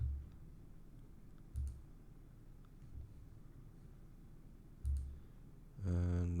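A single computer mouse click on an on-screen button, heard faintly in a quiet room. A few soft clicks sit over low background hum, followed at the end by a brief electronic tone.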